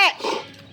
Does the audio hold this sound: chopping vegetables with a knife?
no